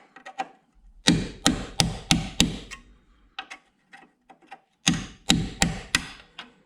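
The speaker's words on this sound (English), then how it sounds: "now we're going to get to do the hammer and chisel again" Hammer and chisel pounding on a rusted rocker panel of a Mercury Sable station wagon: two bursts of five or six loud, evenly spaced metallic blows, separated by lighter scattered taps and ticks, close and with no talk.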